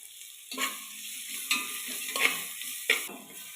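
Onions sautéed in a pan or cooker for egg biryani, with a steady close sizzle and several distinct scrapes of a spoon against the pan at intervals.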